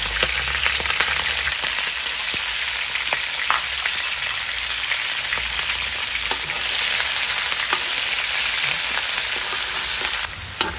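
Onions frying in a pan in a summer kitchen give off a steady, loud, close sizzle that runs the whole time, with a few light stirring clicks and no talk.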